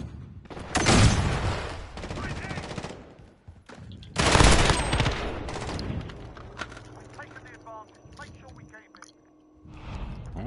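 Two loud, heavy bursts of automatic gunfire in the video game Modern Warfare, separated by a lull, with a player talking in between.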